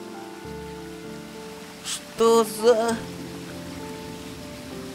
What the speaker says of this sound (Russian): Вам не кажется, что звуки дождя становятся громче?